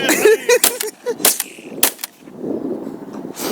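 Several sharp shotgun blasts of a goose-hunting salute crack in quick succession, fairly close, followed by a quieter stretch of background noise and one more shot at the end.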